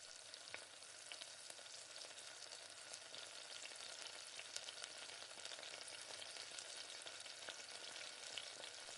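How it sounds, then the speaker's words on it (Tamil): Peeled white garlic frying in oil in a pan for a green gram curry gives a steady, soft sizzle and crackle that runs evenly throughout, with no voices. "பூண்டு அப்படியே ஒரு 2 நிமிஷம் அப்படியே நல்லா வதங்கட்டும்."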